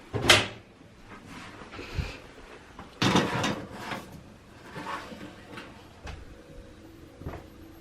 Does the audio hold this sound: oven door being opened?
yes